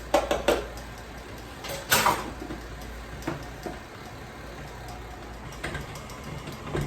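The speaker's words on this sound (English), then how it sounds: "I'm going to let that all mix up together real well." Flour being mixed into chocolate chip pecan cookie dough in a bowl, with scraping and clattering clinks of the utensil against the bowl in a few uneven bursts, fairly close and without talk.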